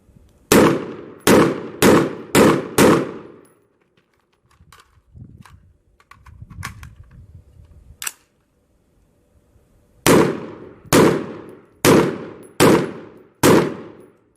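Gunshots on a shooting range: five sharp, loud rounds fired evenly, a pause with rustling and clatter of a reload and change of position, then five more evenly spaced shots, no talk.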